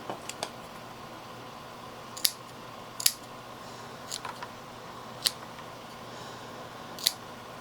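Scissors snip through dark, soil-caked plant roots during repotting, making about seven crisp, close cuts at irregular intervals over a quiet room-tone hiss.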